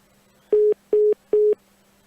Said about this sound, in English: The phone beeped.